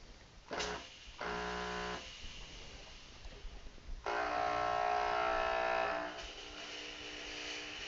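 A fog machine sprays fog for a simple laser beam show, giving a steady hissing, buzzing spray in two bursts, a shorter one early and a louder, longer one midway, with a quieter mechanical hum between them, close by and with no voices.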